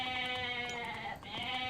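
A steady, nasal bleating cry from goats in the video game Age of Mythology, with a tonal, wavering quality, fairly close, briefly dipping before resuming.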